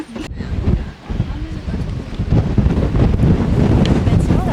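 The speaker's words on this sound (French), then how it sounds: "j'essaye de vous filmer, mais il y a beaucoup de vent" Strong outdoor wind buffets the microphone in heavy low rumbling gusts, continuous and loud throughout with a brief dip early on.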